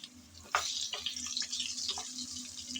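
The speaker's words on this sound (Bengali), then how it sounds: "নেড়ে চেড়ে আমি আম ভেজে নিলাম।" Mango pieces fry in oil while being stirred, a soft, continuous sizzle with a few scraping stir sounds close by.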